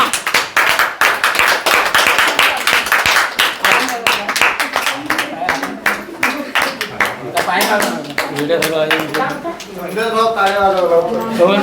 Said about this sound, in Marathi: सगळ्यांनी पुन्हा टाळ्या वाजवा